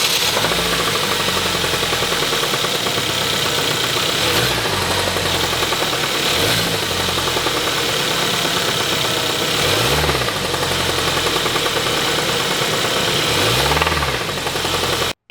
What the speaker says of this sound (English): And the engine is knocking.